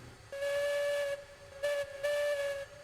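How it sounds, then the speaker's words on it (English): Steam locomotive whistle in the train-driving game Railroads Online, feathered into three separate blasts: a long one, a brief one, then another long one, each a clear hissing tone with pauses between. "You can actually kind of feather the whistle,"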